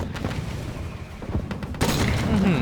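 A deep artillery shell explosion in the tank game Total Tank Simulator hits suddenly after a stretch of rumbling battle noise, followed by a loud sustained blast and low roar.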